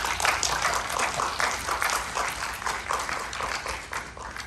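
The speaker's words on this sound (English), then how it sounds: "Please give a very warm round of applause to Mr." A warm round of applause from an evening audience at a classic film screening welcoming a guest, with many hands clapping in a lively, slightly uneven patter that rises and falls without pause.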